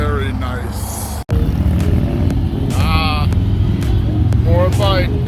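Motorcycles rumble past steadily at Bike Week in Myrtle Beach, a continuous engine drone with someone talking over it throughout.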